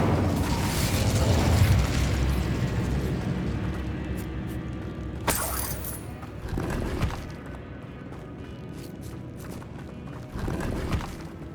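Incendio, the fire spell from Hogwarts Legacy, is cast as a sudden fiery burst that swells, then fades into rumbling game ambience, with a few sharper bursts following later.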